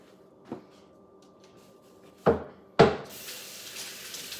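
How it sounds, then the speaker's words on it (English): Beef stew meat being rinsed in a sink: a soft knock, two sharp clatters, then tap water starts running in a steady hiss that continues to the end. "So now all we have to do is grab all this meat and go wash it."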